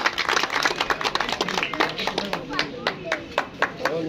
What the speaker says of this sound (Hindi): इनके लिए तालियां होनी चाहिए जी।